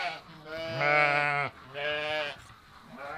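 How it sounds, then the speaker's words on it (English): Sheep on a Tennessee farm bleat while waiting for food, two long wavering bleats close by with a shorter one trailing at the end. "sheep's ready for their food"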